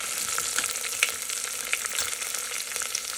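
Spices and masala frying for dal in an Instant Pot give a dense, steady sizzle with faint crackles and pops, close by and with no talk.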